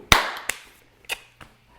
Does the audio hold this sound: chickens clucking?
no